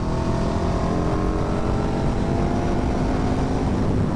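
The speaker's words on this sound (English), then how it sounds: "it revs and the speed doesn't really increase that quickly as you rev it" A 2008 KTM RC8 sport motorcycle with its LC8 V-twin engine drones loudly and steadily at speed, a continuous close engine roar with wind rush and no breaks or voices.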